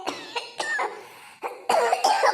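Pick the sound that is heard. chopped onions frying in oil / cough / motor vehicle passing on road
cough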